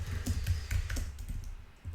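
Quick, light keystrokes on a computer keyboard as a search query is entered, a steady run of close clicks for a couple of seconds with no talking.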